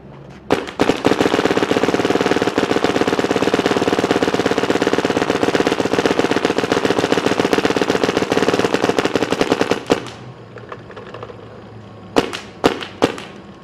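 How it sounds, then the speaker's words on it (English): A Clone VX paintball marker set to unlimited full auto and fed by a V-Max loader fires a dense, continuous stream of sharp shots for about ten seconds, close and loud. A few separate pops follow after a brief pause. "Once again on the Clone VX, set to unlimited full auto."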